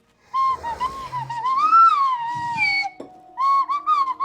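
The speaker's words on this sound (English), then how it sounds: "That's a full-on slide whistle, right?" A slide whistle glides up and down in long sweeping tones, loud and close, pausing briefly before another rising phrase, played alone without talk.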